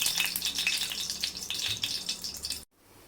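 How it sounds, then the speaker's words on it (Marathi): Dense, crackling sizzle of small seeds popping in hot oil, loud and close, cutting off abruptly near the end to near silence. "आता मी कढईमध्ये दोन चमचे तेल गरम करत ठेवले त्याच्यामध्ये अर्धा चमचा मोहरी टाकायची"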